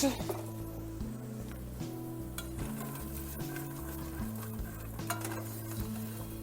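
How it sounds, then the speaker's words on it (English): Vegetables and garlic sauté in a pan over medium-high heat, a soft sizzle with scraping stirs and light clinks of utensil on pan, under low background sound with a voice talking over it. "So you're gonna saute this over that medium-high heat for 3 minutes or so, or until the vegetables are tender."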